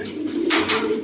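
Racing pigeon cooing in a loft, a soft repeated low coo held close and steady over a faint background hiss.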